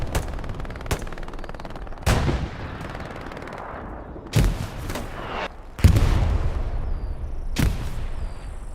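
Machine guns and rifles exchange crossfire across a trench front line in the WWII shooter Hell Let Loose, with loud sharp bursts and single cracks at irregular intervals over a rumbling battlefield backdrop.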